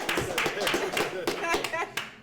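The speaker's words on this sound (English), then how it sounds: "join me in giving a round of applause" Applause comes from the audience at a live evening social podcast event featuring a musical guest. A modest group claps in quick, uneven bursts that sound fairly close, with some voices mixed in.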